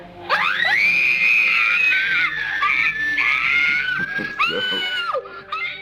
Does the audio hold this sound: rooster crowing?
no